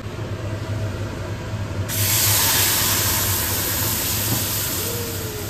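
Low background rumble, then a loud, sustained hiss bursts out as food is eased slowly into hot frying oil, and the sizzle keeps going steadily to the end.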